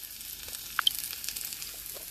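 Food for a vegetarian breakfast sizzles in a pan, a steady soft frying hiss with a few brief sharper pops, moderately close and without talk.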